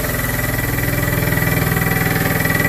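A PM-25MV CNC milling machine spindle running loud while facing and drilling, a dense steady mechanical roar with a fast pulsing chatter rhythm, close and continuous with no talking.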